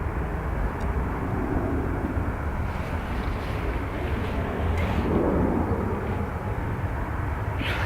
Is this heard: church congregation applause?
no